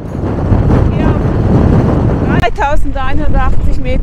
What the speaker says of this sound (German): Der Wind bläst uns von der Seite an.